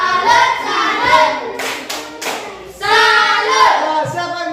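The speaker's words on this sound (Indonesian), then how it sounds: "Ya, tepuk salut." A class of children claps the rhythmic "tepuk salut" pattern while chanting along, with quick bursts of sharp hand claps mixed with young voices, loud and close, broken by a short pause.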